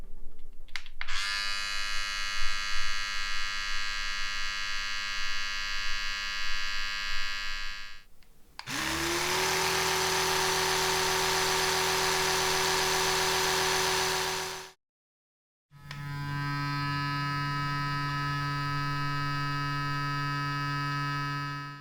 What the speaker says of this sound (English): The noise the iO2 makes is a little less mechanical sounding than many other Oral-B brushes.